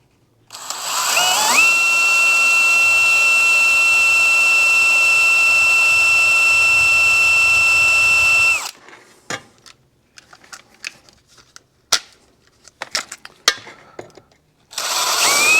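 A power drill bores a hole in a Yamaha 250MX air box with a loud, steady whine that runs for about seven seconds, then gives way to scattered clicks and taps before the drill starts up again.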